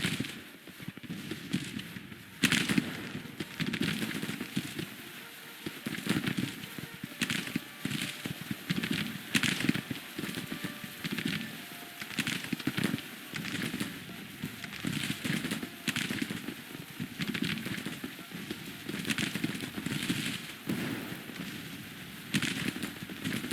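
Musket volleys crackle and pop across a Civil War battlefield in the strategy game Grand Tactician, with repeated bursts of gunfire and a constant rumbling battle backdrop that swells and fades over the whole stretch.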